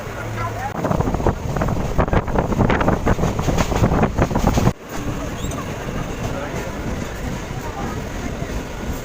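Onboard a local train on the Krishnanagar to Canning line, heading from Kalikapur toward Ghutiari Sharif, a constant roaring rumble and rush of wind fill the carriage. A short dip interrupts it midway, and voices sit under the noise.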